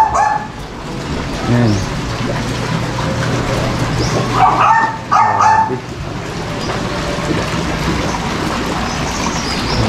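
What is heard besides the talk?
dogs barking at a koi breeder's farm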